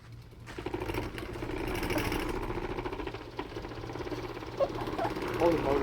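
A ceiling fan motor with a broken-off blade runs and rattles nearby, a continuous mechanical hum and knocking drone with a few clanks toward the end.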